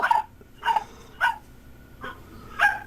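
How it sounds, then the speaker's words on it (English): Five short, sharp barks from an 11-month-old puppy, evenly spaced over about three seconds, moderately close and indoors against a quiet background. "I have an 11-month-old puppy who's running around here, so. I hear them."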